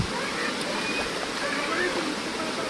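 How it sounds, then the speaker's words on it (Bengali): Constant rushing water from the nearby Ruisang waterfall in Khagrachari, a dense, steady hiss filling the whole clip, with faint voices in the background. "এখন রুইসাং ঝর্ণায়"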